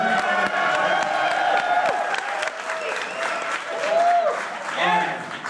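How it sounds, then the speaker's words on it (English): A crowd at the launch of Broken Skull IPA beer breaks into loud, close applause mixed with cheers and whoops, steady clapping with occasional shouted voices riding over it. "give me a round of applause"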